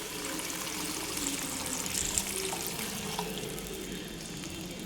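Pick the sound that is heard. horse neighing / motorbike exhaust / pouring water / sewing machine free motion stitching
pouring water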